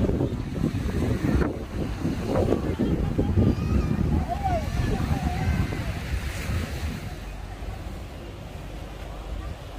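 Surf rolls and wind buffets the microphone on Pantai Gesing, a white-sand beach in Gunungkidul, Yogyakarta. The broad roar is steady and close, easing slightly toward the end, with faint voices underneath.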